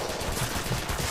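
Rapid, dense gunfire from the top-down shooter Crimsonland, a continuous stream of shots with no gaps, loud and close.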